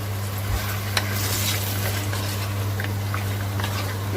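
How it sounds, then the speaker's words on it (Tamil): Lamb curry with turmeric, salt and a little water is stirred in a clay pot, the sizzle and bubbling going on steadily while scraping strokes and small knocks come through at close range. "நல்லா கலந்துட்டு"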